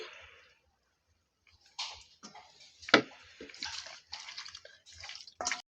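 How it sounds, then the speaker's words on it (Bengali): A small amount of cooking oil is poured into a pan, with soft liquid trickles and drips close by, along with a few light kitchen clicks and a brief sharp knock. "একটু অল্প করে তেল দিয়ে দিচ্ছি।"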